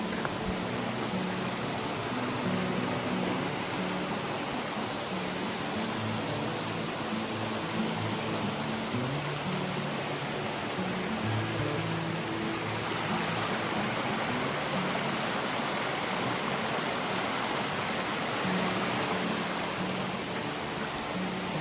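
Steady broadband rush of the Laurel Fork stream flowing beneath a footbridge on the Appalachian Trail, a continuous even water roar with no voices.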